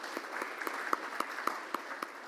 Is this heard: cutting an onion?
no